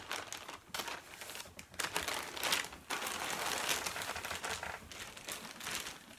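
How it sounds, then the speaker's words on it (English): A plastic bag crinkles loudly and irregularly as wool fibre is unwrapped from it, close to the microphone, with bursts of rustling and brief pauses throughout. "It's in a plastic bag, so bear with me."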